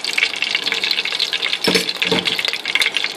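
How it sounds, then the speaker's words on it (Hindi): Ghee poured into a hot pan for tempering a sweet rice dish makes a loud, continuous bubbling sizzle with surging crackles, close and without voices. "अब इसमें हम ये बाकी का आधा कप घी डालेंगे"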